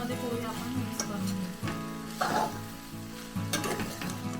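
Onion frying in hot oil with a little sugar for Maharashtrian kanda poha, a close crackling sizzle with a few spatula scrapes and stirring knocks, under a faint low steady hum.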